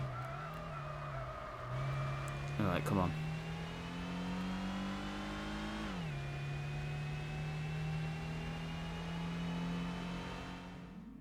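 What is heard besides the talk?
supercharged car engine whine in video game Gran Turismo 4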